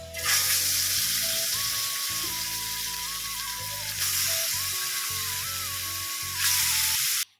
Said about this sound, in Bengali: সরপুঁটি মাছ ভেজে নিচ্ছিলাম